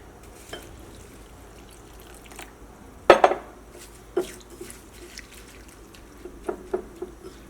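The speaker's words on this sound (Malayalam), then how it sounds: "ഈ ഫസ്റ്റ് അവല് നമുക്കൊന്ന് കഴുകിയെടുക്കുക" Flattened rice (aval) being washed in water in a bowl, sparse soft sloshes and drips with a sharp clink of the bowl, close and quiet with no talking.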